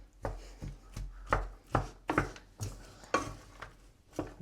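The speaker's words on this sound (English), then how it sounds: "You need to break up the mince." Beef mince for chilli con carne is broken up and stirred in a pan, with about ten sharp tapping and scraping knocks in an uneven rhythm over a faint sizzle, close by and free of speech.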